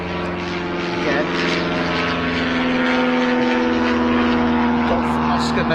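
A general aviation propeller plane at Bristol Airport drones steadily at night, its engine hum building slightly louder over several seconds, with a voice speaking faintly underneath.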